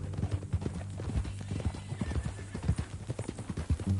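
Horse hooves clip-clop steadily in a Western ranch video game, a quick uneven rhythm of close, clear hoofbeats over a low music bed, with an occasional snort or whinny.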